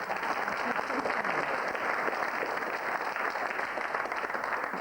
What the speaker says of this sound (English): Right, you're clapping, madam